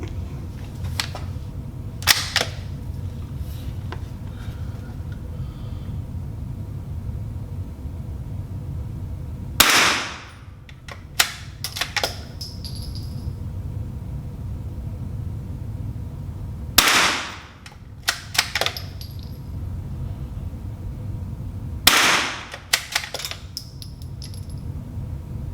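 A Marlin Model 80 bolt-action rifle fires at the range, with four or five sharp, loud cracks spread several seconds apart and quieter handling clicks and thumps in between.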